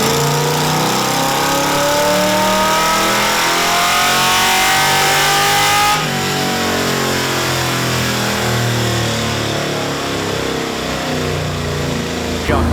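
A 6.4 HEMI V8 revs hard through a VVT dyno pull, its tone climbing steadily toward a high, loud wail that peaks around the middle and then holds at a sustained roar under the dyno's drone.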